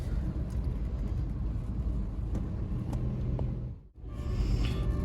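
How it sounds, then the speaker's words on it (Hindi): A car, a Maruti Ignis, rolls slowly through traffic near a toll queue at Shambhu border, giving a steady low road rumble and engine hum with a brief dip near the end, no voices. "धीरे धीरे चल रही है गाड़ी।"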